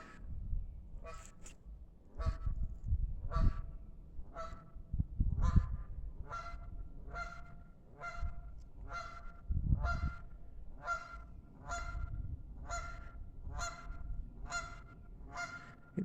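Goose honks repeat in a steady series of loud, close calls, roughly one every second, with low rumbling handling noise underneath and no talking, around a scrap metal cleanup site.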